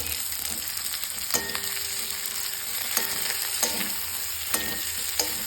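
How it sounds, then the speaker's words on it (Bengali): Chicken pieces with tomato fry gently on low heat in a pan, a steady close sizzle broken by a few sharp clinks of a spatula stirring against the pan, with no voices. "আর এটাকে একটু অল্প আঁচে ফ্রাই করে নেব।"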